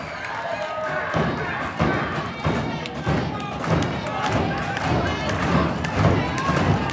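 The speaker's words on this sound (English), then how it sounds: "Crowd definitely behind Christian Blake here." Wrestling crowd at a PW225 Unleashed show cheering loudly and steadily throughout, a dense roar with scattered thuds and shouts rising in swells.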